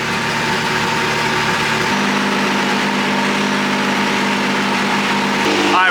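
A car engine idles at a Formula Drift event in Salt Lake City, giving a loud, steady, close-up drone whose tone shifts slightly partway through and swells near the end.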